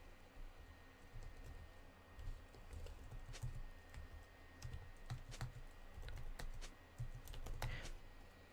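Keys clatter on a computer keyboard in irregular bursts of typing, close and fairly soft, with a steady low hum underneath and no talking.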